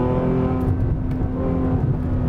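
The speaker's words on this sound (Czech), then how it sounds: "Opravdu stačí lehce šlápnout na pedál plynu a to auto zrychlí s brutální silou a s brutálním zvukovým doprovodem" A Ferrari F12 Berlinetta's 6.3-litre V12 engine roars steadily under heavy acceleration, a loud, continuous rumble with a rising growl and no voices.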